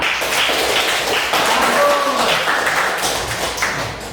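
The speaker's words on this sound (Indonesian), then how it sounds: "Oke, tepuk tangan." A class of schoolchildren clapping together in a classroom, a dense, steady patter of many hands filling the whole stretch at close range, with a faint voice briefly rising above it.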